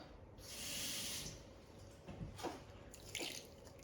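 A brief splash and trickle of water poured into a pot of rhubarb for jam, with a few soft drips and clinks near the end, close and fairly quiet.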